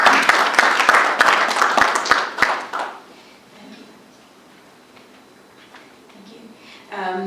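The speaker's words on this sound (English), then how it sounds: "please join me giving a very warm round of applause" An audience at a March 2019 conference applauds its sponsors, the social security authority and IPEC, with loud, dense clapping for about three seconds that quickly fades into room quiet before someone resumes talking.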